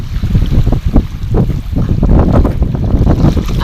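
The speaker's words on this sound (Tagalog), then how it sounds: "Napakalakas ng hangin dito." Loud wind buffets a cellphone microphone in continuous rumbling gusts at a shore crowded with fishing boats, heavy and rough throughout.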